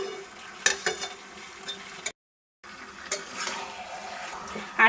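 Chicken and potato curry stirred and sautéing in a pan over a raised gas flame, a steady low sizzle broken by a few sharp spoon scrapes and clinks, with a brief gap of silence midway.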